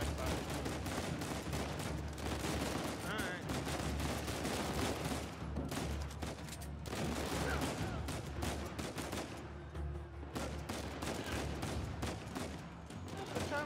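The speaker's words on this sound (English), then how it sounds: "Oh, blind fire." Blind-fire gunshots in Uncharted 4: bursts of rapid gunfire and crackling shots in a busy firefight, mixed with game sound and some voices.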